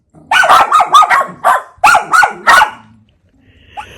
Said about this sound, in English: The dogs went crazy, as you could see. They barked for like 5-10 minutes